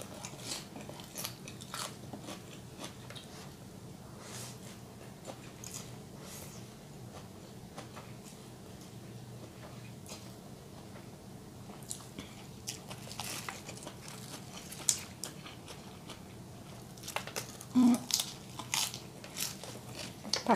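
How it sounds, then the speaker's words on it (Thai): Someone eats tom yum instant noodles with vegetables and thinly sliced pork, with close, irregular bites and crunchy chewing that grow louder near the end. No one speaks. "กินมาม่ากับผักโอเคเลยจ้ะเข้ากัน"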